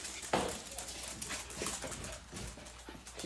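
A dog whimpers and whines softly at close range, short plaintive sounds over a busy indoor background with faint movement.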